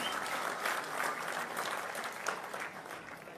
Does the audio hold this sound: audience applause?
yes